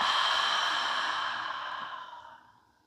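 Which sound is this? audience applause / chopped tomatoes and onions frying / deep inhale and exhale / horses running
deep inhale and exhale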